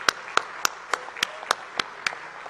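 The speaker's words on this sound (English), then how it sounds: "Give a big round of applause for him." Scattered claps from a small audience at a talk, about nine separate sharp claps spaced across a couple of seconds, fairly quiet and thin rather than a full ovation.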